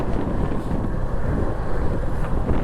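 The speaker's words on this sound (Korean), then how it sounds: "시속 지금 70km로 바람이 불고 있고" Strong wind in Texas, around 70 km/h, buffets the microphone with a loud, constant low roar and rumble that never lets up.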